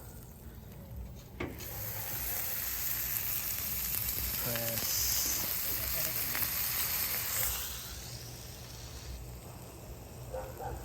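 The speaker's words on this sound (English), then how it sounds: "You put the butter on there, get it sizzling." Butter sizzles loudly and steadily on a hot Blackstone griddle, a bright crackling hiss, with a voice speaking briefly over it.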